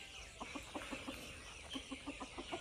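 Chickens on a homestead clucking softly in a steady, evenly spaced run of short calls, moderately close and without any talking.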